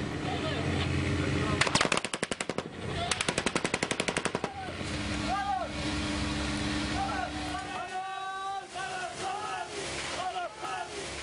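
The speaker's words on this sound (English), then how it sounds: "That was the cannon, wasn't it?" Rapid bursts of automatic gunfire and cannon fire crack out at sea off Gaza, heard from a small boat with its motor droning, followed by voices talking and shouting over the engine.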